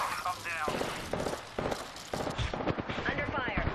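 Video game gunfire in a chaotic firefight, with sharp repeated shots cutting through as people talk over the action.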